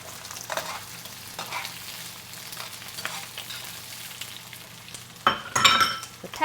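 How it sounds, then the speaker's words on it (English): Asparagus, onion and pepper stir-frying in a pan, a steady soft sizzle throughout with occasional tossing scrapes and a louder clattering burst of stirring near the end; no talking. "One thing I love about a good stir fry. We're just going to keep tossing it until the vegetables reach tender crisp"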